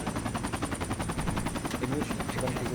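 Helicopter in the Project Reality mod for Battlefield 2, a continuous rapid rotor chop thudding steadily throughout, loud and close with a whining engine tone and faint voices mixed underneath.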